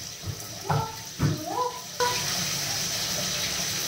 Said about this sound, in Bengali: আর এখন হচ্ছে কিছু থালি বাসন জমা ছিল, এগুলো ক্লিন করতেছি